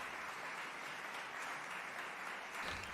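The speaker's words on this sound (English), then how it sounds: "Give me a round of applause." Applause sound effect played on a live stream of a singleplayer strategy game session, a steady broadband clapping wash that holds evenly for about three seconds with a slight swell near the end.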